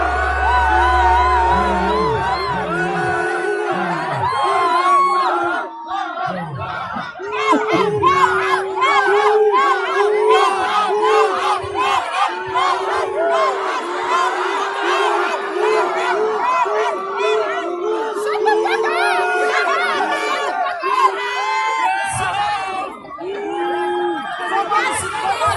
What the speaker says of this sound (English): I didn't understand why they were booing her.